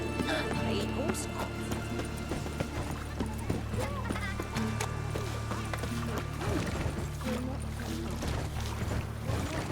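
Horse hooves clip-clop steadily in The Witcher 3, a continuous rhythmic patter layered under busy game ambience, music and scattered character voices.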